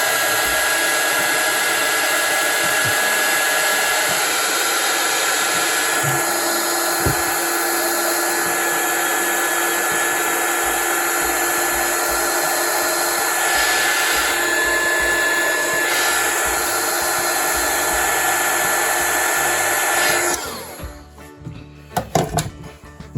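A heat gun blows hot air to shrink heat shrink tubing over an 8-wire mod chip inside a PSone slim console, a loud steady whooshing roar that runs for about twenty seconds, then cuts off, leaving a few faint clicks and handling noises.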